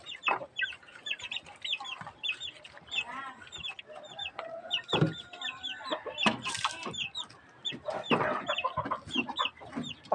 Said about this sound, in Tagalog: Itong isa pong manok.